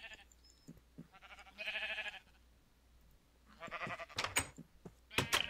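Sheep in the Minecraft video game bleating, several separate wavering bleats with quiet gaps between them, clear and fairly close, followed near the end by a few sharp clicky game sounds.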